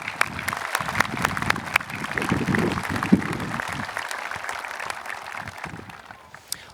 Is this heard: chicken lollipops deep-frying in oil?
no